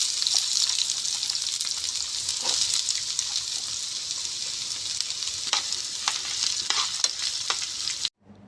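Dried red chillies and onion sizzle and crackle in hot oil for chutney, a bright, steady frying hiss with occasional stirring scrapes, ending abruptly.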